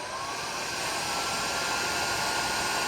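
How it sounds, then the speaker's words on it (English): Continuous airy blowing hiss of a heat gun heating a wire connector while a radio is wired into a Honda Pioneer side-by-side, a steady close whoosh with no talking. "just get your heat gun, and then just start hitting it with your heat"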